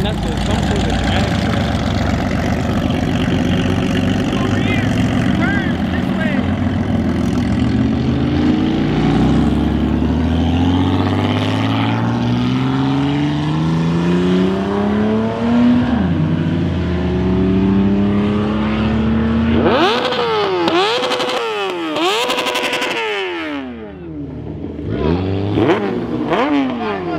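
A big-turbo R7 car revs at a Cars and Coffee meet: loud engine sweeps rising in pitch again and again, then sharp, rapid revving near the end, with crowd talk around it.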